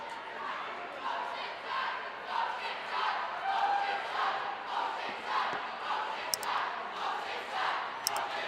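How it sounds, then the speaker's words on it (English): Student section cheering and chanting at a varsity boys basketball game between Oceanside and Medomak Valley, a sustained rhythmic roar with a couple of sharp whistle-like squeaks, and a voice talking over it. "Oceanside certainly has got a student section that is making some noise"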